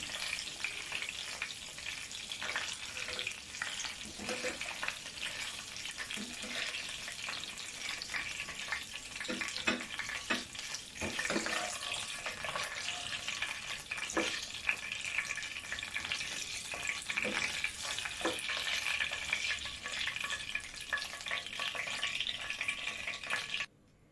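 Chicken kofta balls crackle steadily in hot frying oil while being stirred and lifted out, with light scrapes and clinks of a utensil over a continuous close sizzle.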